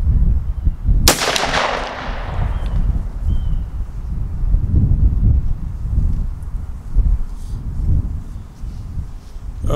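A 3.5-inch 12-gauge shotgun fires a single buckshot load through a Buck Kicker choke tube outdoors, one sharp loud blast with a short decaying tail over steady wind noise.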